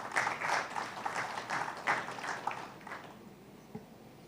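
Audience applause welcoming a guest to the podium at a live special session with Kerala officials, a moderate burst of clapping that thins out and fades toward the end.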